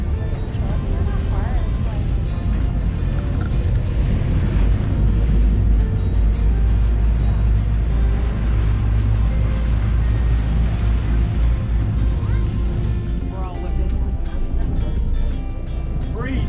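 A loud, steady tour boat motor drone with rushing water and wind, shifting slightly as the boat turns around near the Apostle Islands, with people talking over it.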